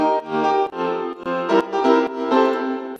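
Piano chords from the PianoOne instrument ring out in a short, loud progression, several sustained voicings struck one after another with no talking.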